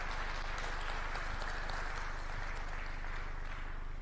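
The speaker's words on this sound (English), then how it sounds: "Can we give a round of applause to all our participants up on stage?" Conference audience at the 18th international e-Learning Africa 2025 gathering clapping for participants on stage, a soft, distant, even patter of applause sustained under a steady low hum.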